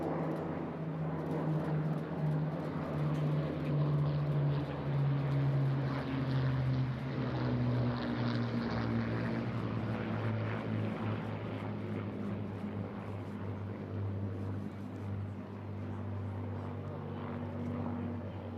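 A formation of Blenheim aircraft flies overhead at an airshow, a steady droning piston-propeller roar whose pitch slowly drops as it passes, continuous and distant-to-near.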